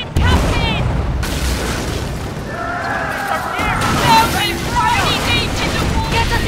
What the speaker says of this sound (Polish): Przyrównijmy ci z moździerza i poprawmy bombardą